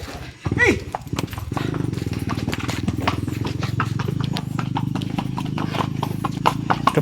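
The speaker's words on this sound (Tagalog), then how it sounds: "kabayo pa ang ginagamit dito sa lugar na to" Horses walking through a place where they are still used for transport, hooves clip-clopping in a steady rhythm close by, with a neigh at the start and people talking over it.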